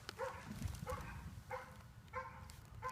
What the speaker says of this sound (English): the neighbor's dogs go crazy every time I try to make a film